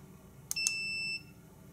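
An automotive battery tester, not properly connected, gives two short high beeps followed by a longer steady tone of about half a second, fairly clear against a quiet background.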